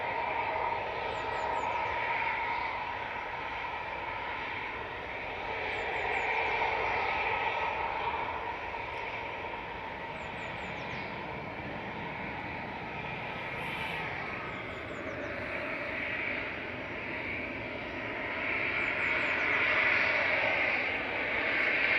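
Ethiopian airliner pushing back at Manchester Airport, its jet engines producing a steady, broad roar and hiss at moderate distance that swells and eases gently over the whole stretch, with no talk.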